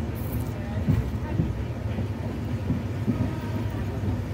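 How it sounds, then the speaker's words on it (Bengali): A Panchagarh Express train hauled by an American 66-series locomotive with LHB coaches rolls along smoothly, a steady low rumble of wheels and carriages with faint rhythmic clicks, heard from inside under quiet background. "বর্তমানে কিন্তু 66 সিরিজের আমেরিকান লোকোমোটিভ এবং এলএইচবি কোচের সমন্বয়ে পরিচালিত পঞ্চগড় এক্সপ্রেসে যাত্রাটা একটি স্মুথ যাত্রা মনে হচ্ছে।"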